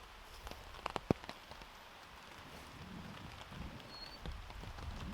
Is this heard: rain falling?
yes